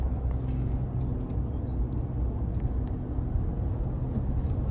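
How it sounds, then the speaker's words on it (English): Slow-moving car traffic on a Los Angeles street gives a low, continuous rumble of engines and tires, with a steady near-and-far wash and no distinct horn or single passing vehicle. "This to Iva is LA traffic when the cars are just moving slow."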